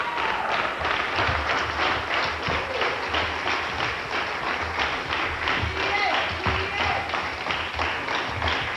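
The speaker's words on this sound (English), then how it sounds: "Many people, as you can hear, are cheering her on, proud of her" Crowd in a ballroom on election night in 2002, cheering and clapping in a steady, dense wash of applause with scattered taps and shouts, continuous throughout and fairly close.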